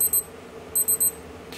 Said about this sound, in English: It'll just beep.